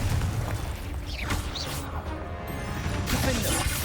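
A Confringo blast spell in Hogwarts Legacy, cast during a cave fight: crashing, booming magical impacts and mechanical clatter over a steady combat din, with brief shouted effects around them.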